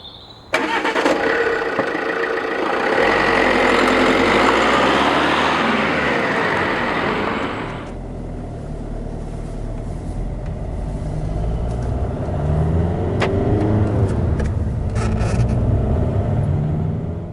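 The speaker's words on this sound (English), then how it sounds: "The diesel engine is a little laggy off the line before the turbo kicks in" A Fiat 500L Trekking diesel engine with a turbo cranks and catches, roaring loudly for several seconds before settling into a steady, lower rumbling idle that keeps running.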